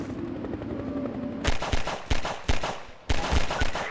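Gunfire in Half-Life 2 against flying Combine: several sharp, loud shots and short bursts at irregular intervals over a steady droning hum, with no voices.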